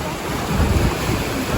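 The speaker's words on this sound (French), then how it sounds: "il fait un vent et qu'il fait froid" Strong wind gusting across an outdoor amusement park in October, a loud steady roaring rush of air buffeting the microphone, swelling briefly midway.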